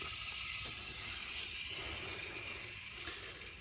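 A rough, rattling mechanical whir from a worn timing belt tensioner pulley spinning on a Ford Escort, with a gritty, ratchety texture, loud and close throughout.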